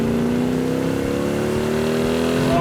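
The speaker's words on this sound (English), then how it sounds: "That is one snarler of an engine." A 1967 Hemi GTX convertible's engine with dual quads revs up close and loud, a steady rising snarl with a strong rumbling exhaust tone throughout.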